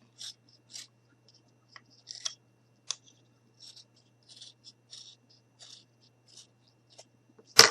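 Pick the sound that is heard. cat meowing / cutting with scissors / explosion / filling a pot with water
cutting with scissors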